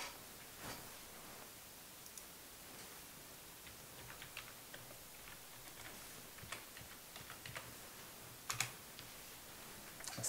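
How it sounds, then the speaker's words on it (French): Sparse, faint keystrokes on a computer keyboard as a password is typed during a CPU overclocking session, soft irregular clicks scattered over a steady background hiss, with no talking. "on tape le mot de passe"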